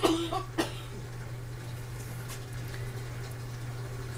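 A short cough from a person with asthma right at the start, followed by another quieter one, then a low steady hum with faint background noise.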